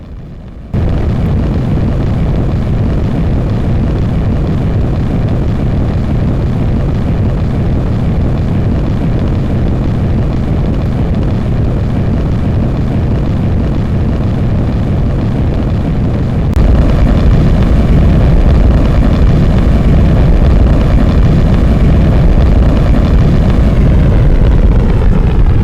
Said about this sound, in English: Although the engines sound very nice in this footage,